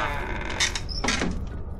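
A wooden house door creaks open in a couple of drawn-out, squeaky groans over a low background rumble.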